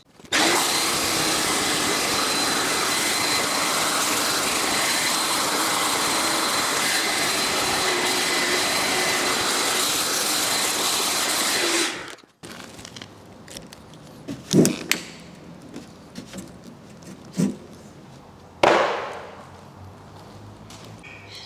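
A loud, steady vacuum whine drones for about twelve seconds over Nissan 300ZX carpet floor mats, then cuts off, leaving quieter scattered bumps and brushing sounds.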